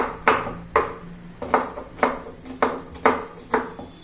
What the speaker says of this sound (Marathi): एकदम बारीक असा आपण चिरून घेऊ लसूण